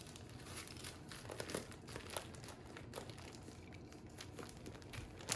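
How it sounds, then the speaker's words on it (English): Plastic spawn bags filled with rye grain crinkle and rustle as they are pinched and folded, a close, continuous crackling with occasional sharper crunches. "Pinch the sides of the bag, make it nice and even all the way down, and then just start folding them."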